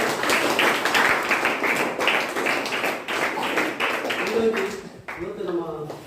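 An audience applauds at a Rotary Club National Eye Donation Fortnight event with dense, sustained clapping that carries on for several seconds, and voices emerge near the end.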